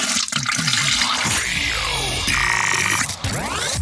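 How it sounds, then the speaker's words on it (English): A toilet flushes with a loud rushing, gurgling surge of water that swirls and drains away over a few seconds, close and alone. "hearing the sound of the toilet flush"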